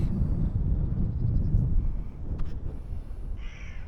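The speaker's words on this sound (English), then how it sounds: "flock of birds just taking off, seagulls" Wind buffets the microphone on the Cinder Track near Whitby, Yorkshire, while a flock of seagulls takes off calling, with a couple of sharp cries rising above the gusty rush.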